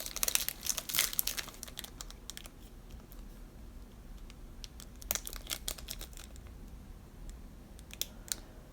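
Foil packs of Series 1 trading cards being torn open and handled, with bursts of crinkling and tearing near the start and again around the middle, then quieter rustling between; no talking.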